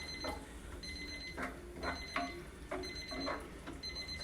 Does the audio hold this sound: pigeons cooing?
no